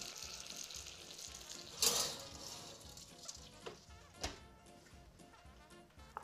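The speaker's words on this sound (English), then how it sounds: "4 or 5 minutes on the stove just to start the bacon cooking" Bacon sizzles in a pan on the stove, a faint steady crackling fry with a few soft clinks and stirring sounds, no voices.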